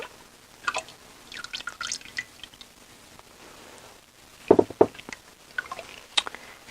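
A short burst of lye water splashing into soap-making oils and dripping close by, with small wet drips and clinks scattered before and after.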